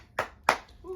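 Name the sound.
applause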